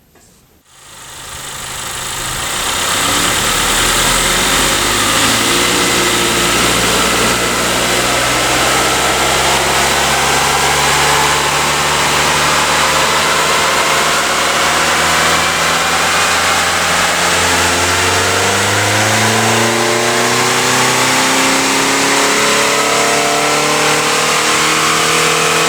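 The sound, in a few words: 2015 Honda Accord engine on dyno, stock wide-open-throttle run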